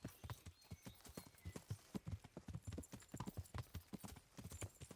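Steady clip-clop of horse hooves trotting in the video game Kingdom Come: Deliverance, a brisk continuous rhythm of hollow knocks, fairly close and prominent throughout.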